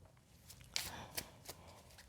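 Tarot cards being shuffled and drawn during a reading, heard as soft papery riffles with a few sharper snaps and flicks close to the mic, and faint talk in the background.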